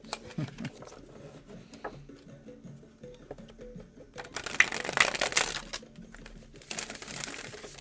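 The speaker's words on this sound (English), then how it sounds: "I'm just enjoying shuffling for a little while" Tarot cards being shuffled up close, soft riffling and flicking in short bursts, with a louder flurry midway and a quiet voice underneath at times.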